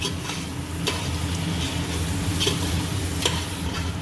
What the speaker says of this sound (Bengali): চলে আসি ডেচকিতে মশলাটা সুন্দর করে কষি